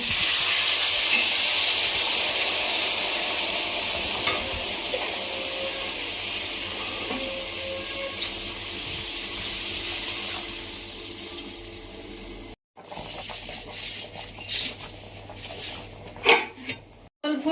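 Water hits a hot pan of singi fish and gati kochu curry with a loud hissing sizzle that slowly fades into a steady bubbling simmer, followed by a few clinks of a utensil against the pot.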